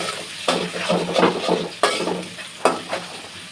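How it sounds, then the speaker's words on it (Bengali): Chopped onions frying in oil until light brown, a close, continuous sizzle broken by several sharp scrapes and clanks of a spatula stirring the pan. "এখন পেঁয়াজ কুচিগুলো একই তেলে দিয়ে হালকা ব্রাউন কালার করে ভেজে নেব"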